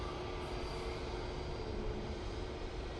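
An easyJet airliner taking off from Manchester Airport makes a dense, even engine roar with a steady whine, fairly distant and continuous, with no voices.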